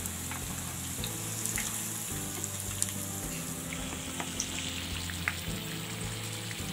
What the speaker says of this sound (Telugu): చూసారుగా మన బజ్జీలు మంచిగా ఫ్రై అవుతుంది, ఇవి గోల్డెన్ బ్రౌన్ కలర్లోకి వచ్చే వరకు ఫ్రై చేస్తాం.